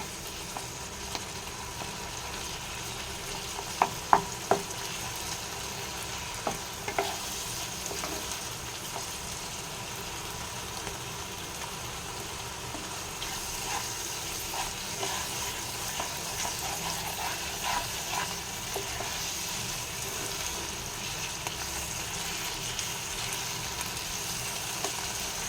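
Maharashtrian gawar (cluster bean) sabji fries in a pan over a high gas flame, giving a soft continuous sizzle with a few small clinks early on and no talking.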